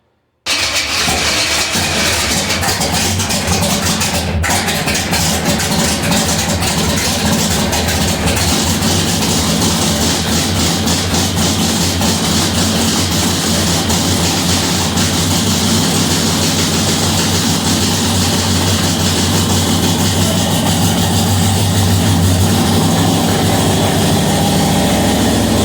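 A 1955 Chevrolet engine runs with its ignition firing late, giving a loud, steady, rough idle that drones close-up for the whole stretch with no one talking.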